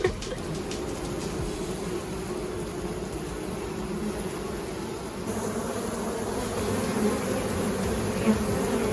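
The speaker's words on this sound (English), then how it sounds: "The ones flying around you, most of those are female bees." Many honeybees buzz continuously around an open hive at close range, a dense droning hum that swells slightly toward the end.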